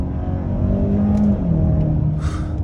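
A 2022 Hyundai Santa Fe Limited 2.5T SUV in sport mode, heard from inside as the engine pulls hard with a rising drone that climbs, shifts, and climbs again, loud and steady without talk.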